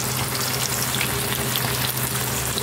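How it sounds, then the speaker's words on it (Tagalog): Fish fillet frying in a generous amount of hot oil, a steady, dense sizzle and crackle that stays close and loud throughout with no talking over it. "Tapos, piprito na natin."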